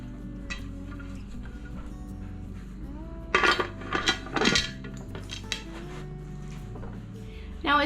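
Metal lid fitted onto a pressure canner pot loaded with quart jars, a few sharp clanks and scraping clinks in a cluster midway, then a final clatter, close over a steady low hum.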